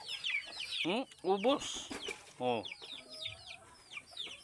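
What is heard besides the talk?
young chickens clucking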